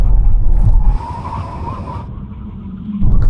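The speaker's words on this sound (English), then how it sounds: "brake test from 100 miles an hour. When we reach the line full emergency stop" An electric performance car makes a full emergency stop from 100 mph, with a steady road and wind roar giving way to a sustained tyre squeal and skid that fades into a lower rumble as it slows.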